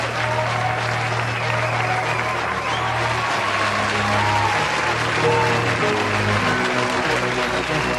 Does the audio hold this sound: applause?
yes